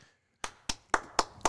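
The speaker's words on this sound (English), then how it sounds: "big hands together clapping for you guys" Five sharp hand claps, evenly spaced after a brief silence, close and crisp with no talking.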